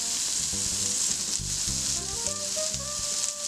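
A burger patty sizzles steadily in a frying pan, its hiss running continuously beneath louder background music with a plucked, rhythmic melody.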